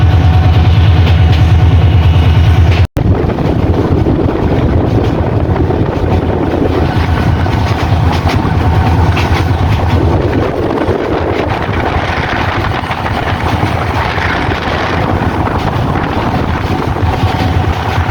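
A passenger train on the Dhaka to Mymensingh line rumbles steadily along, with a low engine drone and wind rush continuing without break, briefly cut once near the start.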